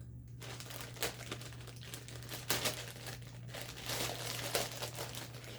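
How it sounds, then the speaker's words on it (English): Plastic packaging crinkles and crackles as a Sword Art Online Alice anime figure is pulled free. The rustling is close and continuous, with sharper bursts over a faint steady hum. "let me get her out of the plastic real quick"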